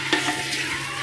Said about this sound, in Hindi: ऑयल गर्म हो चुका है, इसके अंदर हम डाल देंगे चिकन।